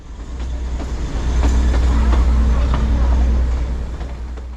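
A 110-year-old heritage toy train on the Bilimora–Waghai line in India runs with a steady low rumble and faint rhythmic clatter of wheels over rail joints, swelling slightly louder midway and holding close and continuous throughout.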